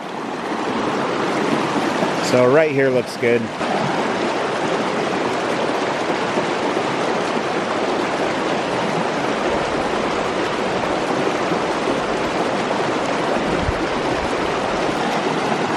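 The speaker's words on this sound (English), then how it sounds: "I want to get where the water is moving really well." Steady rushing creek water flows continuously throughout, close and fairly loud, with a person speaking briefly near the start.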